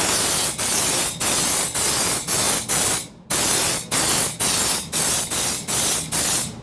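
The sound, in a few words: spraying undercoating on a vehicle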